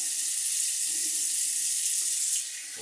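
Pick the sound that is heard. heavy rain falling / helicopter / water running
water running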